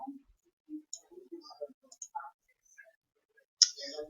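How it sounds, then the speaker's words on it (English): Mouse clicks on a plus icon in a software timeline, a scattering of faint, sparse, dry ticks with quiet gaps between them and one sharper click near the end. "I'll make the timeline bigger by clicking the plus arrow, plus icon"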